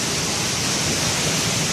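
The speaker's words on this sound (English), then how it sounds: "The waterfall in India flows fiercely." A waterfall in India flowing fiercely, a steady, dense roar of rushing water filling the whole stretch at constant loudness, with no voices.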